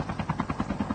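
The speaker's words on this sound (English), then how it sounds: "Cannot be landing helicopters like they're a freaking toy car." A helicopter lands in Call of Duty: Mobile, its rotor thumping in a fast, steady, loud pulse throughout the brief moment, with no voices.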